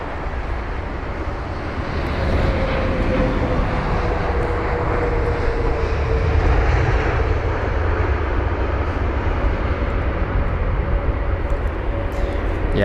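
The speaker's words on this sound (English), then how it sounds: "the commercial break is an A319 of British Airways or an A320 of them" A British Airways Airbus A319 or A320 airliner at Heathrow gives off a sustained, fairly loud jet rumble and whine that stays even from start to finish, heard alone.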